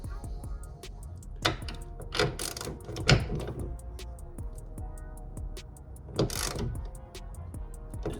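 Ratchet tightening the hood strut bolts on a 1994–2004 Mustang, heard as a few quick bursts of clicking amid faint ticking, close and fairly quiet.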